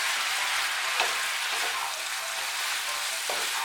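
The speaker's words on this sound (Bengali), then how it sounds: "জিরে গুঁড়ো আর চিনিটা ভালো করে মিশিয়ে নেব।" Vegetables with ground cumin and sugar sizzle steadily in a pan for a Malabar spinach (pui shak) dish, with a couple of faint scrapes from stirring under the constant frying hiss.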